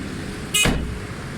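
Japanese Suzuki Alto with a fuel and pick-up fault on a road test, a steady engine and road drone with a short whooshing surge as it passes close.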